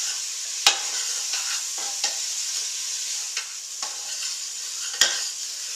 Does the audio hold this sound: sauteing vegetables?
yes